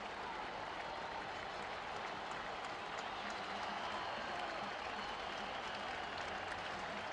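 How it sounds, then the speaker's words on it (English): Mets fans stand and clap through a steady wash of stadium applause and crowd noise during a World Series game, dense and continuous from start to finish with faint broadcast talk underneath. "Leiter gets the support of Met fans who are standing and clapping."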